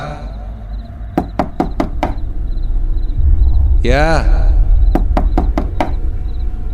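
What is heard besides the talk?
knocking on a bedroom door, in the video game Nightmare Side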